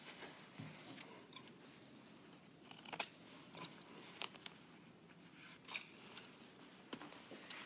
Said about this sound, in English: I gotta trim some more out of there